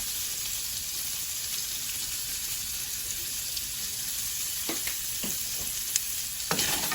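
Lobster frying in butter with Cajun seasoning and paprika, a steady close sizzle with occasional scraping stirs, no talking.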